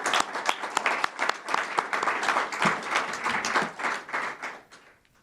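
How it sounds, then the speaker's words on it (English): An audience at a community recognition awards ceremony gives a crowd of people's applause for an award recipient, which is steady and fairly close and fades out over the last second. "can we give a round of applause to Isaac, please?"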